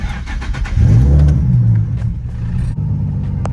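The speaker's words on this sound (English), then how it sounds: "So I'm gonna start the car." A Nissan 370Z, a push-to-start car with a manual gearbox in neutral, cranks and fires up with its VQ engine, a loud low rumble swelling after a brief start and settling into a steady idle, with no talking.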